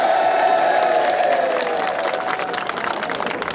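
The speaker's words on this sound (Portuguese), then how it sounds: "Então palmas para Ikunja!" Crowd at a CAD political march in Pemba, Cabo Delgado, Mozambique, clapping and cheering for Ikunja, a loud, dense roar of applause and voices filling the whole stretch, with a held shout or chant rising at the start.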